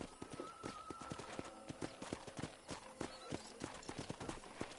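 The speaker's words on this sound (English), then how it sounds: "I picked out a fine horse for you." Rhythmic clip-clop of a horse's hooves at a steady walking pace in the Red Dead Redemption video game, with close, moderately quiet hoofbeats and a soft ambient background.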